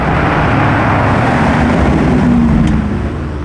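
A Lamborghini Urus SE idles and hums steadily close by, a loud continuous low engine drone that rises slightly before easing off at the end.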